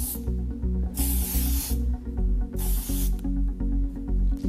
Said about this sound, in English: If you leave the clips in and hairspray over the top